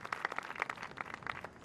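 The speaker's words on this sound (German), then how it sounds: "ihr habt euch einen Applaus verdient" A small group claps in a Formula 1 team cutscene from the F1 2021 racing game, a faint, scattered patter of individual claps at a distance.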